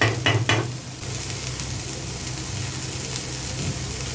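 Bitter gourd and onions fry in a pan with a steady, close sizzle, opened by a few quick clatters of a utensil stirring against the pan.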